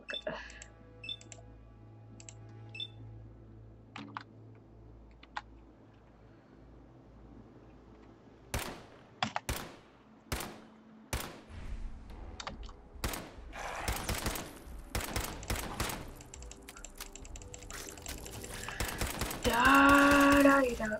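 Pipe pistol gunfire in the game Fallout 4, a series of sharp single shots at irregular intervals through the middle, loud and close, with a brief voice near the end.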